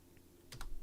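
Two quick clicks from keys pressed on a computer keyboard, close and crisp, following a quiet stretch of faint room hum.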